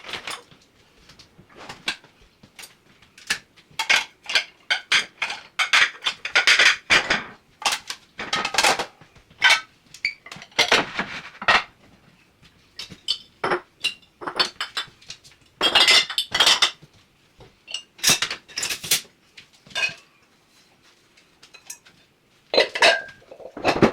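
Dishes, pots and cutlery clatter and clink in a home kitchen during cleanup after canning pickles, a steady run of sharp, close knocks and rattles in uneven bursts with no talk.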